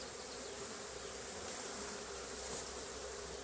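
A steady, dense hum of many honeybees buzzing close by around a hive being renewed after moisture mould, continuous and unbroken, with no voices.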